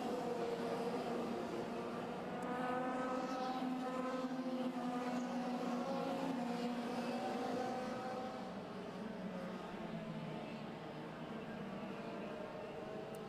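Racing karts from a British pro kart championship round lap the circuit, a steady droning blend of engines holding constant through the stretch at moderate distance, with a faint commentator voice in the background.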